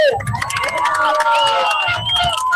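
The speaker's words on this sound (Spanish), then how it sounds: "¡Un fuerte aplauso!" A crowd at a political rally in Lima applauds and cheers loudly, a dense wash of clapping and shouting voices with chanting tones rising over it throughout.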